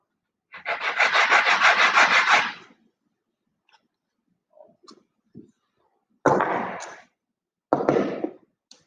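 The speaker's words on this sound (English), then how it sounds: "This looks like I just need a little bit of sanding to fit this in." A wooden model roof piece from a Midwest Products basic truss roof kit is sanded by hand, giving one long steady rasping stroke of nearly two seconds, then a few faint taps and two shorter scrubbing strokes, close and clear.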